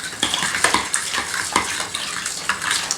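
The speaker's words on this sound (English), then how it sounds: "And then we are going to put 3/4 cups of apple juice." Apple juice poured into a bowl of pork chop brine, with a wet splashing and trickling close by alongside a few light clinks of kitchenware.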